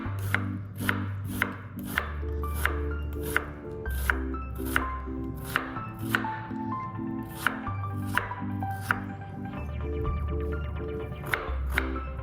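A knife chops tomato salsa ingredients on a cutting board in a steady run of sharp, loud close-up thwacks, about one every half second, over a background of instrumental music and no talking.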